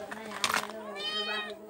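A cat meows at a family home with drawn-out, wavering cries close by, following a burst of nearby voices and sounds.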